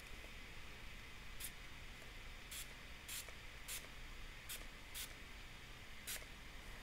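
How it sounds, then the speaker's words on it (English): A fine water mister sprays onto Brusho watercolour pigments, seven or so short sharp spritzes at irregular intervals over a quiet hissy background, with no talking. "And that mist is dropping some bigger drops. I do have like a fine mister."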